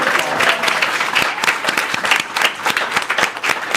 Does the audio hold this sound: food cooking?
no